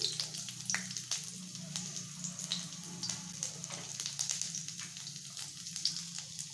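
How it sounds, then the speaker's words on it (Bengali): Dried red chilli, chopped garlic and onion fry in oil in a pan, a steady close sizzle with crackling pops and spits throughout. "এখন শুকনো লঙ্কা রসুন কুচি আর পেঁয়াজটাকে দিয়ে আমি বেরেস্তা করে তুলে নেব"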